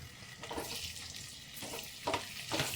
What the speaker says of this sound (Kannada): ಈಗ ಚೆನ್ನಾಗಿ ಸ್ವಲ್ಪ ಫ್ರೈ ಮಾಡ್ಕೊಳ್ಳೋಣ.